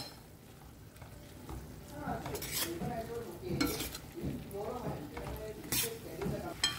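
Prawn chilli gravy thickened with cornflour and water is stirred in a pan, a spoon scraping in repeated bursts over a low sizzle, with a voice speaking at times.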